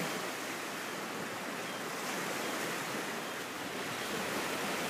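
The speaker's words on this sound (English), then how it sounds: "Feel the presence of the ocean, the waves, and this beautiful sound of the ocean." Ocean waves wash in a soft, continuous hiss of surf, steady and even with no distinct breaks, faint and distant-sounding, with no voices over it.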